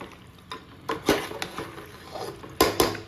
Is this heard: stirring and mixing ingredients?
yes